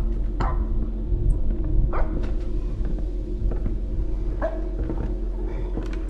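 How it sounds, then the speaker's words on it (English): A dog barks repeatedly in a horror video game, short sharp barks and yips recurring at irregular intervals over a steady low background hum. "I gotta go to the dog that's barking."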